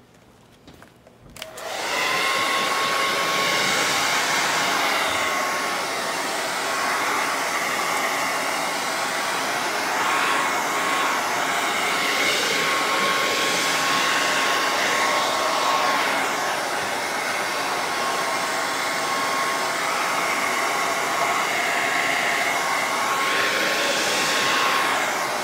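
A hair dryer blows steadily and loudly for over twenty seconds, drying freshly stenciled paint on a wooden stove top cover noodle board; it switches on abruptly and holds a constant whooshing drone.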